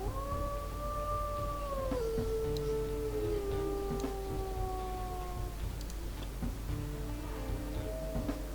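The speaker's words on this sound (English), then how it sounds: "Her howls are..." A female dog named as a finale subject howls in long, wavering sustained tones, several drawn-out howls rising and falling over about eight seconds, moderately close with no talking.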